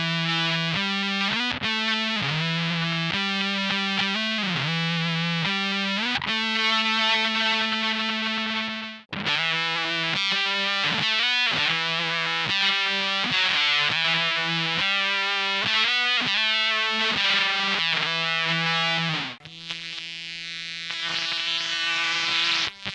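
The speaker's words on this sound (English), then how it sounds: "the Synth Mangler is a noise fuzz, or a fuzz that is used to generate weird sounds" An Ooh La La Synth Mangler noise fuzz pedal churns out heavily distorted, buzzing synth-like tones in steady sustained bursts, with a couple of brief dropouts, loud and alone without any talking.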